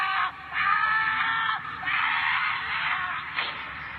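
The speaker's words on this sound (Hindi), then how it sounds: "कुछ देर बाद लेखक की एक जोर से चीख सुनाई देती है।" A writer's loud, drawn-out scream in a horror story, sustained and harsh with a couple of brief breaks, close and piercing with no other voices.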